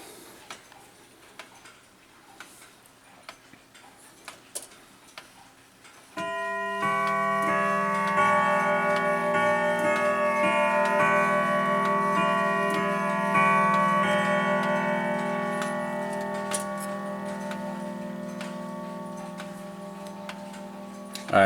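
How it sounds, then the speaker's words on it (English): A Howard Miller Shaker modern grandfather clock ticking softly at first, then a long sustained chime with ringing tones swelling in and slowly fading, heard alone in a quiet room. "there's a prime example of a new modern grandfather clock."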